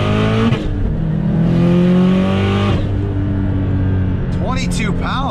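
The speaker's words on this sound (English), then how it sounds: "This turbo sounds so good, even with the intake." A turbocharged 500 HP Subaru pulls hard in second gear, its engine revving steadily upward with a loud, rising drone, then shifting and briefly whistling near the end.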